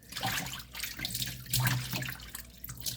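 Chitterlings are washed by hand in water, with splashing, sloshing and trickling that comes in uneven bursts, close by and fairly soft.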